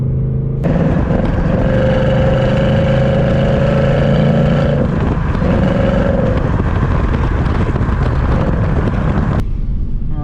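A 2019 Ford Mustang GT V8 pulls hard in a lower gear, its engine roaring loud and close with a steady drone and rising notes, and a short gear change midway.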